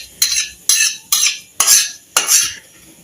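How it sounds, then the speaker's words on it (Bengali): Cumin seeds fry in mustard oil in a kadai over low gas while a spatula stirs in five loud, evenly spaced scraping strokes, each a bright burst fading into a soft hiss, with no voices. "জিরেটা আমি ভেজে নেব।"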